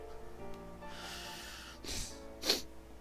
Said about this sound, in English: Sorry, sniffles.